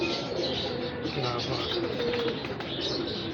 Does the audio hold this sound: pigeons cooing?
yes